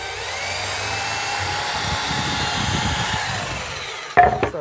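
A 300W 110V variable-speed electric hammer drill runs steadily with a grinding, whirring drone for several seconds, then slows and rattles to a stop with a few clunks at the end.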